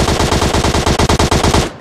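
Loud, close automatic gunfire from the PUBG Mobile Lite video game fires in a rapid, evenly spaced string of shots for nearly two seconds, then cuts off sharply.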